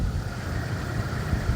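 A Jeep Cherokee 3.7 V6 petrol engine idles with a steady, low, rumbling burble, close and continuous at an even level with no speech over it.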